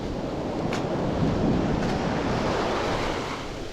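Ocean surf washing onto a California beach, a loud continuous wash that swells and eases, with wind buffeting the microphone and no voices.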